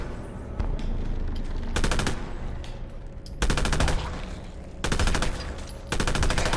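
Gunfire in the video game Fallout London: three sustained bursts of rapid automatic fire, each lasting about a second, separated by low ambient game background with no talking.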